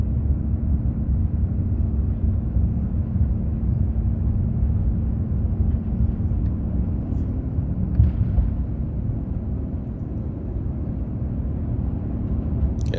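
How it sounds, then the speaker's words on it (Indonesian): Steady, loud low-frequency roar of a Thai Airways airliner's engines from inside the cabin while climbing after takeoff, a continuous rumble with no breaks throughout. "sekarang pesawat sudah lepas landas untuk menuju ke ketinggian tertentu"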